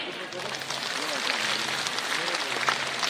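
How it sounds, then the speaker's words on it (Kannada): Applause from an audience at a women's political rally fills the space as a dense, continuous crowd of clapping, with voices talking over it. "ತಾವೆಲ್ಲರೂ ಈ ಒಂದು ಶಕ್ತಿಗೆ ಇನ್ನೊಂದು ಬಾರಿ ಚಪ್ಪಾಳೆ"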